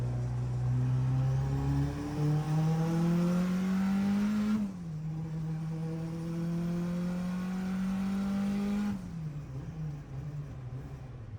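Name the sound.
Honda H22 hatchback engine revving at full throttle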